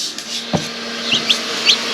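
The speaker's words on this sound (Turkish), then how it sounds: "Cik sesleri artıyor değil mi?" Newly hatched chicks give faint, high peeps that repeat softly inside an incubator against a quiet background, with a couple of light knocks and brief rustles.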